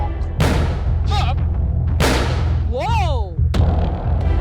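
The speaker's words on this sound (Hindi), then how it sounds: "ये धमाका आपकी सेफ्टी के लिए था" Several heavy booming blasts go off one after another, each a sharp thump with a long rumbling tail, mixed with rising whistling tones: a fire-extinguisher bomb bursting to put out a fire.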